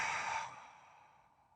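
A single cleansing breath exhaled through the mouth during a hatha yoga class, a soft airy sigh that starts fairly strong and trails off over about a second, close and alone.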